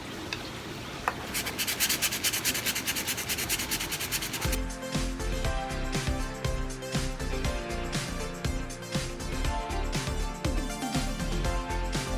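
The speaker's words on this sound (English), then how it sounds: "And I've just got some sandpaper here that I'm going to do." Sandpaper scrubs in steady, close rasping strokes during the first few seconds of a back patio job, after which a rhythmic music bed takes over and buries it.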